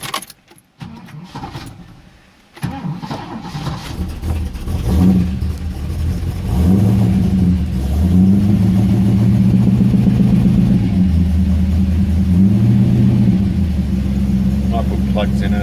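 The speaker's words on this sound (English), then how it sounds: "Actually, I should just see if it starts." An older carbureted car engine with new plugs cranks briefly, then catches and runs, rising and falling through loud repeated revs that hold a steady rough rumble close by.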